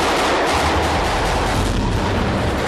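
A staged safe explosion effect on a film set roars as a dense, loud, sustained blast of broadband noise with no talking.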